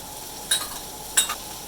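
Two brief scraping stirs move through pot pie filling seasoned with pepper, garlic powder and thyme in a pan, heard over a soft steady sizzle with no talking.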